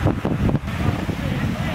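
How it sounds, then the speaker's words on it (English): Wind buffets the microphone outdoors at a wedding venue with tents set up, a steady loud rumble with gusty bumps across the brief moment, while someone speaks. "Little windy here."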